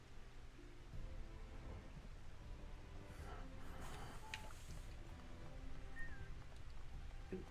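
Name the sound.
rain in a video game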